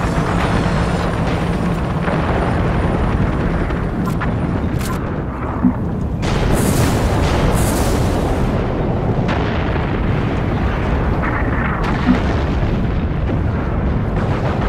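A grenade explosion in the third-person shooter Rogue Trooper Redux: a heavy blast bursts over a dense, rumbling battlefield din of ongoing combat noise that continues throughout.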